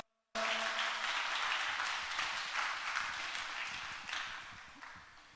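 A church congregation bursts into applause at a dawn revival service, the dense clapping starting abruptly after a brief silence and holding steady before slowly thinning toward the end.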